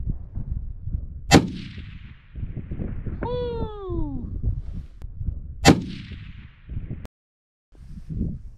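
Two sharp, loud .300 Win Mag rifle shots firing Nosler 200-grain Accubond bullets at an outdoor range target, each with a long echoing decay, spaced about four seconds apart, with a brief metallic ringing whine between them.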